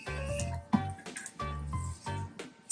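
Electrolyte liquid is poured onto a hand pad for electro-chemical marking of stainless steel, heard as a few close, soft pouring splashes and drips in short bursts amid quiet.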